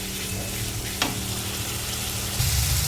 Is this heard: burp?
no